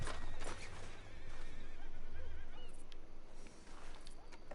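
Horse hooves clop through a mixed Red Dead Redemption game soundtrack, irregular and mid-level, with other game sounds and brief low rumbles around them.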